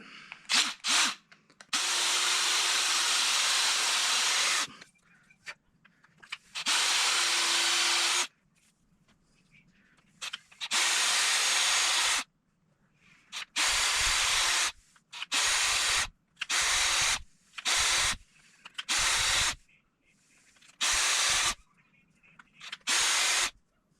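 A brass pen tube is trimmed on a lathe for a rollerball pen, with repeated loud bursts of cutting noise separated by brief pauses.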